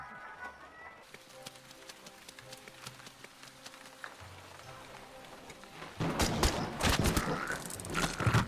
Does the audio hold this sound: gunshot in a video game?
yes